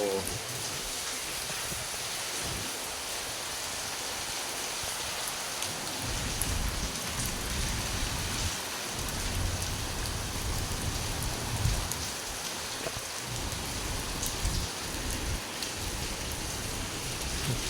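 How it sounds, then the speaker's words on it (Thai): Steady rain falls heavily and continuously in Soi Khao Talo, Thailand, a dense hiss of drops on surfaces with occasional low rumbles underneath. "บรรยากาศฝนตกนะซอยเขาตาโล"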